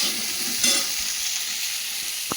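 Chopped ginger sizzling in hot frying oil for a fish curry, a steady close hiss of frying with a faint stir midway and a single soft knock near the end.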